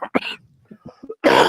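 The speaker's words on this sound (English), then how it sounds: "could you try not to cough on the" A man coughs several times in short harsh bursts, close and loud, with a throaty clearing, followed by a heavier cough at the end.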